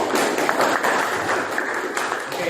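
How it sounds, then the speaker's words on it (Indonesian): A classroom of students claps for a classmate during a school biology lesson, a steady, dense patter of hands lasting a few seconds with no talk over it. "Tepuk tangan untuk Patrisius ya."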